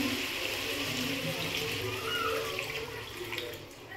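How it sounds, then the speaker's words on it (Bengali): Water poured into a pot of cooking chicken, a steady close splashing rush with a sizzling hiss underneath, continuing for a few seconds before easing slightly. "এবার আমি এর মধ্যে জল দিয়ে দিচ্ছি।"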